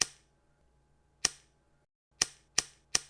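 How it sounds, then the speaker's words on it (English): A lighter being lit: five sharp, isolated clicks of the striker spread unevenly across about three seconds, close and crisp, separated by near silence. "That is the sound of a lighter lighting."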